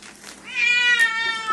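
A pet cat meows once up close, a drawn-out rising and falling cry of about a second, clear and fairly loud, with faint background noise.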